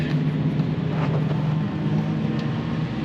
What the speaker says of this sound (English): as you can hear, there is a race going on